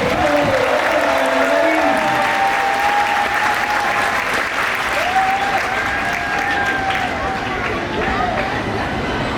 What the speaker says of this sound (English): how about a huge round of applause for our volunteers today?